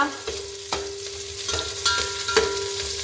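Onions frying in oil in a pan for fish sambar, stirred with a utensil: a steady close sizzle broken by occasional scraping clinks of the spoon against the pan, with no talk.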